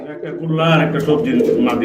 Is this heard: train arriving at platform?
no